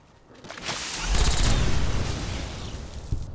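A loud explosion in the video game Fallout New Vegas bursts in with a sharp blast, then rumbles and crackles as a broad booming roar that slowly fades, with a small pop near the end.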